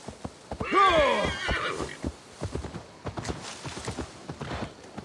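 A horse in Assassin's Creed Valhalla gives a loud, close whinny with a wavering pitch, followed by a steady run of hoof clip-clops as the animal moves off.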